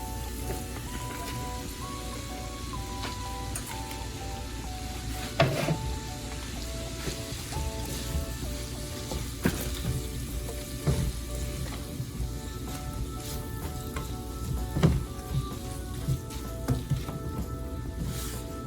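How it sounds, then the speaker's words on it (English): Steady loud sizzling of hash browns frying with ground hamburger meat in a pan, a continuous crackle with occasional stirring scrapes and squishes near the microphone. "So now I'm going to add our hash browns in."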